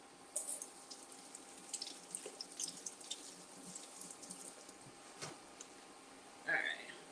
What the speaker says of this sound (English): So let's give these a rinse.